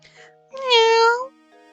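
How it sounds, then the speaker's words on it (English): Claudia the cat from Professor Layton and the Curious Village lets out one clear, drawn-out game meow after soft background tones, with music continuing faintly beneath. "Claudia, come here, girl. Meow. Meow."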